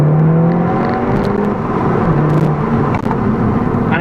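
A 2019 Seat Leon Cupra R hot hatch engine runs with a loud, steady droning hum and slight shifts in pitch, heard close up with no talking.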